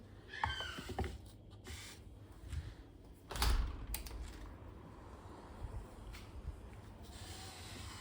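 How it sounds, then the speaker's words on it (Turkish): A balcony door is pulled open with a sudden rattling burst partway through, followed by quieter room ambience and a few faint knocks. "Bir dakika şu kapıyı açalım."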